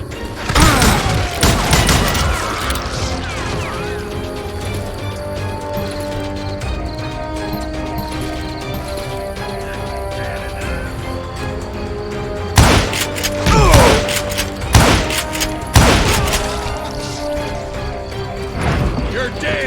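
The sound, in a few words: gunfire in Call of Juarez Gunslinger video game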